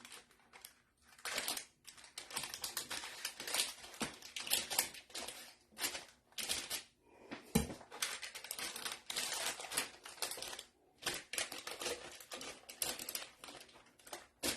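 Big bent-tipped knife working through a raw spaghetti squash on a kitchen counter, giving repeated crunchy, crackling cuts and scraping in irregular bursts with short pauses, close and fairly quiet, no talking.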